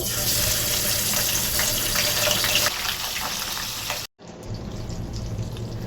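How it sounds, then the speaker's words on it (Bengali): Pabda fish rubbed with turmeric and salt frying in hot oil in a pan at home: a loud, steady, broadband sizzle that softens slightly partway through, then cuts out for a moment and resumes. "তেলটা গরম হয়ে গিয়েছে, এখন আমি এক এক করে সব মাছগুলো দিয়ে নিব।"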